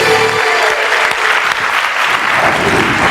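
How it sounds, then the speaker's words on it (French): Studio audience of a French TV word game show applauds in a dense, steady burst of clapping close to the microphone, sustained for a few seconds without talk. "J'ai décidé moi aussi d'apporter ma collaboration aux applaudissements dans cette émission."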